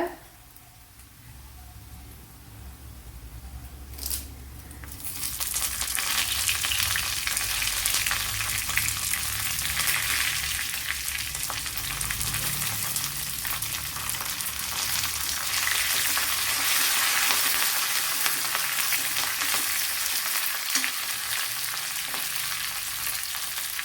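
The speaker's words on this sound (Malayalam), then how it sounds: "ഈ കറി ലീവ്സ് ഇട്ട് കൊടുക്കുക." Dried red chillies and curry leaves fry in hot oil, starting as a quieter sizzle that jumps sharply to a loud, dense crackling hiss a few seconds in and then stays steady and close.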